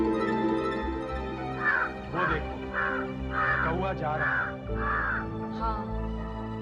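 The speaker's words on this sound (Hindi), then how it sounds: "वो देखो कौआ जा रहा है।" A crow caws six times in an even, rhythmic series of harsh calls, clear and fairly close, over a low background tone without talk.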